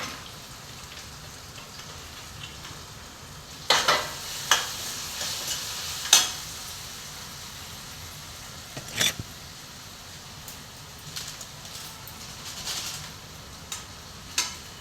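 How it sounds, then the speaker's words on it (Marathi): Peanuts already fried in oil go into a pan for brinjal bharit, bringing a steady background sizzle with scattered sharp clacks and scrapes as the mix is stirred. "शेंगदाणे तेलामध्ये तळून घेतले ना ते टाकूया."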